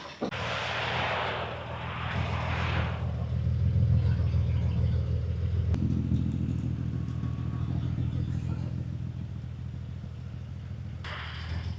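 A BMW 335 race car's engine starts on a very cold day after being unloaded, a brief crank then a loud, steady low rumbling idle that holds close by throughout.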